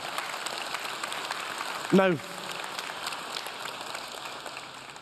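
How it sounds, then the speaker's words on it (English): An audience claps at a keynote speech, a continuous wash of applause that goes on throughout, while a voice briefly speaks over it. "you're clapping, and that's lovely"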